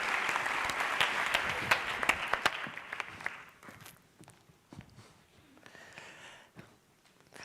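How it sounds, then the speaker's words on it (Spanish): Audience applause welcoming Catalina Ruiz-Navarro to the TEDxBogotá Mujeres stage, loud and dense at first, then thinning into scattered claps and footsteps as it fades. "Un aplauso, por favor"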